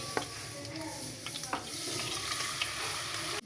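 Small cut pieces of meat fry in hot oil with a close crackling sizzle, broken by several sharp stirring clicks and scrapes, no speech.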